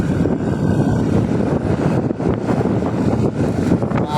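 Steady, loud January wind buffeting the microphone outdoors in General Trias, Cavite, with a constant low roar, broadband rumble throughout, no voices.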